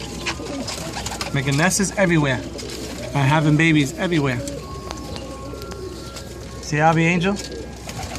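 Pigeons cooing in repeated soft, throaty bursts close by, mixed with someone talking over them in a yard where the birds nest and breed, including white ones.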